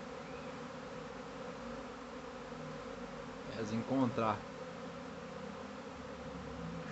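A swarm of Apis honey bees arrives with a dense, continuous buzzing drone, and a brief swell of louder buzzing passes close by while someone says a few words.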